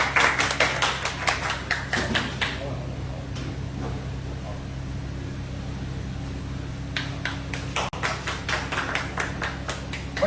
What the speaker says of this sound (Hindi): भैया ठाकुर साहब के लिए भी 4 बार तालियां डाला।